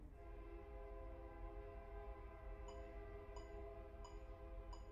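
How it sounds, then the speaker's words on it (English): A train on a nearby railroad track, heard faint and distant as a low, steady rumble with a sustained horn-like drone throughout. "We're near the railroad track, so you might hear a train in the background."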